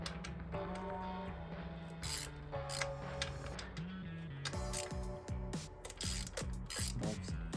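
A hand ratchet backs out long bracket bolts on the intake manifold of a 2008 Hyundai, with rapid rhythmic clicking in bursts and a repeated whirring rasp, close and clear, no voices.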